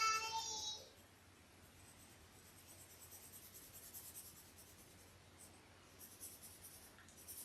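Soft graphite pencil held at the end and dragged on its side across paper, giving a steady, faint rasping shading sound that continues throughout with slight swells, and a brief, louder scrape right at the start.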